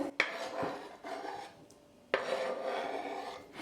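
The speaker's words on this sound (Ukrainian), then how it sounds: "Перекладаємо у велику миску." Baked vegetables being tipped into a large bowl: two bursts of scraping, clinking kitchenware at about 0.2 and 2.1 seconds, each followed by a soft rasp and rattle, close and fairly quiet, with no talking.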